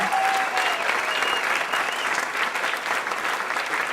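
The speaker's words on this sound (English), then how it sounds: "A big round of applause to Amherst Media for putting that together." A roomful of people claps steadily and loudly at a chamber of commerce awards ceremony, a thick continuous wash of applause that holds level throughout.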